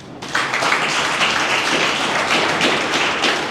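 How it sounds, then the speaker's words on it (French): An audience at a university debate club evening applauds a representative of Saint Thomas Aquinas University, a dense, steady wash of many hands clapping that starts abruptly and holds loud and even throughout, with no talking. "que je vais vous demander d'applaudir"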